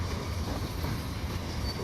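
Train in the Ruhr-Sieg Nord simulator route between Hagen and Finnentrop, rolling along with a steady dense rumble and wheel noise, constant and fairly loud throughout, no talking.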